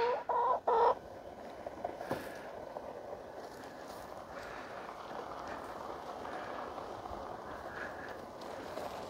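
Chickens cluck loudly a few times up close at the start, then quieter clucks and rustling continue faintly in the background.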